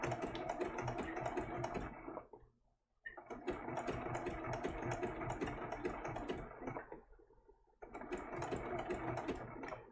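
A sewing machine stitches a turtle appliqué in short bursts, a fast close mechanical chatter that runs for a couple of seconds, pauses briefly while the fabric is rotated, then starts again twice, with no voices.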